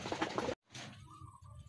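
A racing pigeon coos softly nearby, a low throaty murmur following a brief rustle and a short silence.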